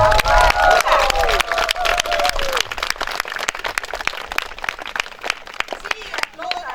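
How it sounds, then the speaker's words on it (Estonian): Lively applause from a large audience after a camp closing, dense clapping that starts loud and thins gradually into scattered claps, with a voice briefly heard at the start. "tehke endale üks suur aplaus"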